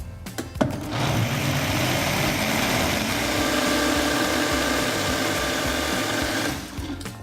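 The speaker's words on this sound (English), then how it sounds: "So now I'm just going to blend it for about a minute or 2." A blender whirs continuously for several seconds, blending an almond milk mixture in a steady, loud motor drone that starts and stops abruptly.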